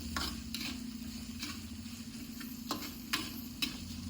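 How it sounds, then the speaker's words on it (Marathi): Onion and garlic lightly sautéed in a pan, a faint steady sizzle with occasional soft scraping and tapping of a spoon stirring, close but quiet. "फक्त कांद्यातला लसणातला कच्चे पाना जाण्यासाठी हलक्या हलक्याचं परतून घ्यायचं"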